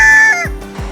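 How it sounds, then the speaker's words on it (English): Chickens in a residential neighborhood give a loud, close burst of clucking with a rooster-like tone, followed by two short, lower clucks in quick succession. "Have you been awakened by the sound of chickens in your neighborhood?"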